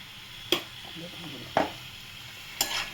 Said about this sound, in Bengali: ভালো করে মিক্সড করবো।